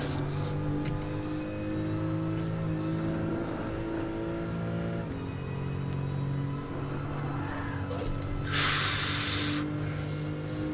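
A Porsche Group 1 race car in Gran Turismo Sport drones with a sustained engine note that rises and drops through gear changes, with a brief sharp hiss or squeal near the end.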